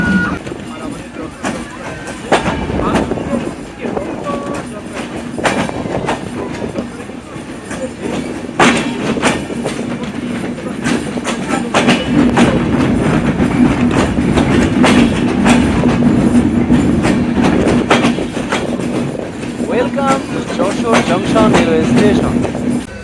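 The Sagardari Express running from Khulna toward Ishwardi in rain, a continuous rumble with clickety-clack of wheels on rails and rattling carriages, steady and close throughout, with a voice talking over it.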